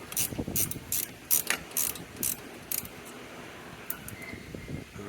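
Ratchet clicks in quick bursts while a 13mm nut is loosened on the shock mount of a 1997 Vespa P200E scooter, rapid close mechanical ticking with short pauses.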